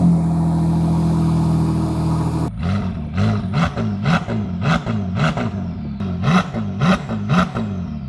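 A Ferrari 296 Novitec N-Largo with a power-optimized exhaust, sports cats and exhaust flaps cranks over and starts after a steady whirring, then settles into rhythmic, pulsing revs, loud and close with no talking.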